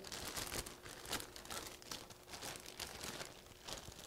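A black plastic bag crinkles and rustles softly in irregular bursts as a printer toner drum is slid inside, close and fairly quiet, with no voices.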